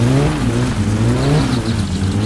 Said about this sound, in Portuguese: O carro tá ligado.